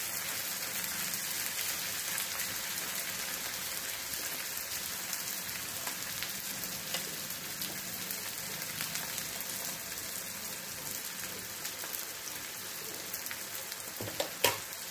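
Chicken do pyaaza pieces frying in a little hot oil give a steady, continuous sizzle with a faint crackle, heard close and alone for the full length, with a small clatter near the end.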